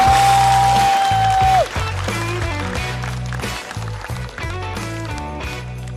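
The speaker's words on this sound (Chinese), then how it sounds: "预热的掌声送给一会儿马上就要出场的优秀的脱口秀演员们" A studio audience claps in welcome for the stand-up comedians about to take the stage at a comedy show, steady applause blending with loud rhythmic music after a sustained tone cuts off.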